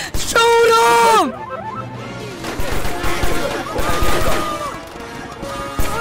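Rapid video-game gunfire in Rec Room, bursts of sharp shots and clattering volleys in a chaotic firefight, with a voice shouting over the noise.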